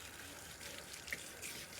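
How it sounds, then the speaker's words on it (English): Cold tap water runs steadily from a faucet to rinse a freshly scrubbed comb at a sink, a soft continuous splash and trickle that stays close and fairly quiet throughout. "Step number three would be rinse with cold water."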